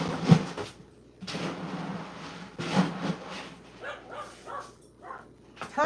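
Several dogs waiting to be fed let out a few loud barks near the start, then bowls and cupboards knock and slide nearby, with a person speaking toward the end.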